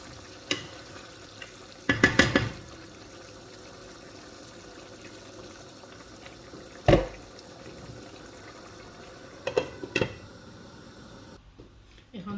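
A spoon stirs chola pulao, a rice dish cooked with black chickpeas, in a pan. A few scraping strokes come in short bursts over a soft background hiss, close and quiet.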